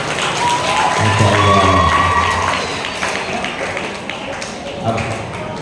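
An audience claps during an Isra Mi'raj religious sermon at SMK Al Falah, a school in South Jakarta. The clapping is a steady, moderately loud patter mixed with a few voices and a brief spoken exclamation.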